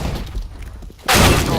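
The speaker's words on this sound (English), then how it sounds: "Flashbang out. Flashbang." A flashbang grenade in a video game goes off with a sudden loud bursting blast after a stretch of quieter game noise, then holds as a harsh roaring ring.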